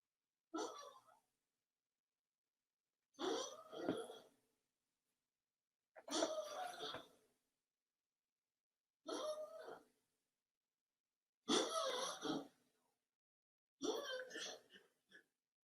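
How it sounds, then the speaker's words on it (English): A dog coughs and hacks in six separate harsh bursts, each a second or so long, spaced a few seconds apart with silence between. "that's my dog coughing up a fur ball"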